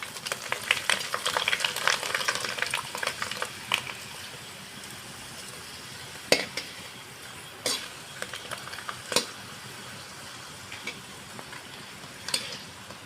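Large noli papad frying in hot oil, a dense crackling sizzle that is busiest at the start and thins out, with a few sharp clinks and taps from the pan standing out later.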